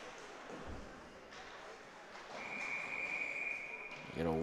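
Referee's whistle at a men's ACHA college ice hockey game, a single sustained shrill tone rising over crowd and rink noise, with commentary voices running underneath.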